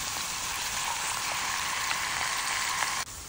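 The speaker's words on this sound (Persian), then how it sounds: "بعد از اینکه داغ شد سیب زمینیامون رو سرخ میکنیم." Potatoes frying in two spoonfuls of hot oil in a pan, a continuous even sizzle with soft crackles that cuts off abruptly near the end.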